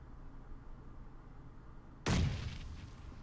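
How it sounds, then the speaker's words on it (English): A single booming grenade blast in PUBG Mobile erupts suddenly after a quiet stretch, then fades into a rumbling tail. "Did Clay just throw a nade at G-Bay?"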